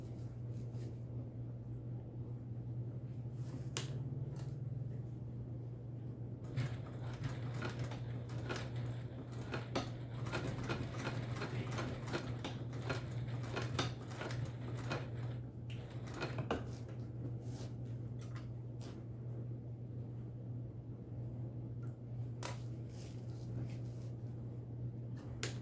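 Home sewing machine stitching a bow onto a vinyl-sided Lola bag pattern, a steady low motor hum with quiet mechanical clicking and ticking running throughout, fairly faint and close by.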